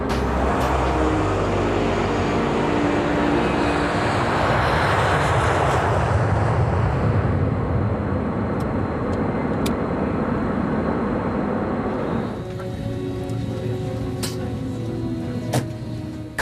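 Airliner taking off in an Alaska Airlines Flight 261 reenactment: a loud, sustained broadband engine roar and rushing rumble that holds steady, then eases slightly near the end as tonal whines persist.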